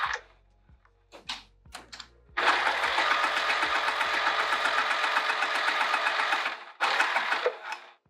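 A sewing machine runs top stitching on a scrap fabric coaster, starting with a few short stitch bursts and then settling into a long, steady, loud whirring run before stopping and a final brief burst.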